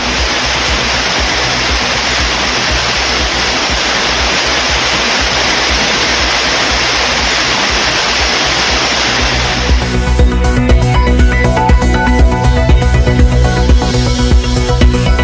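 Flooded waterfalls at Courtallam pour with a loud, steady broadband roar that fills the whole stretch, its texture shifting to a rougher, more turbulent rush partway through, with no voices.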